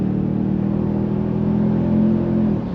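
Steady engine hum inside the cabin of a Toyota Tundra or Sequoia Capstone, partly synthesized through the JBL audio system, holding a constant low drone that swells slightly before easing off near the end, with no talking.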